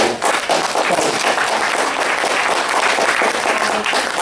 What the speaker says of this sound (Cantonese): 真係要俾掌聲